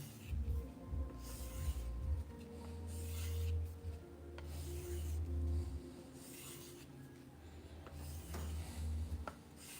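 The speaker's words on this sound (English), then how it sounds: "I didn't even want to sharpen this knife for her" A knife scraped along a sharpening surface gives repeated rasping strokes, each a gritty rub lasting a second or two with short pauses between, fairly quiet and close with low rumbling underneath.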